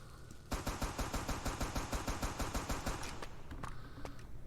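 Rapid automatic gunfire from a first-person shooter game, a steady string of close, loud shots lasting several seconds before a few scattered single shots.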